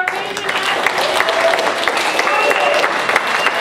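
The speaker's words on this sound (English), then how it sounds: "one more round of applause for our amazing" An audience at a culminating theatre presentation applauds steadily and loudly throughout, dense clapping with a few voices mixed in.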